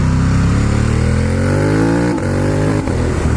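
A Ducati Monster 1200S with a Translogic up-only quick shifter pulls hard, its engine note climbing loudly and close before two sharp quick-shifted upshifts cut the rise and it keeps accelerating.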